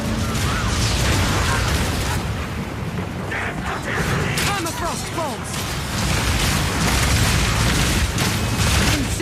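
Incendiary crossbow bolts fired in Path of Exile 2 explode as a dense, continuous barrage of loud booms, bursts and mechanical clatter that runs without a pause, with the sound of battle mixed in.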